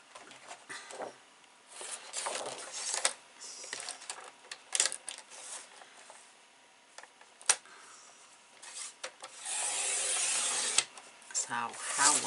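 A paper trimmer slices through patterned paper for a Graphic 45 Flutter 8 x 10 scrapbook album, giving close, dry rasping and scraping strokes in several bursts, with a longer, louder cutting pass near the end.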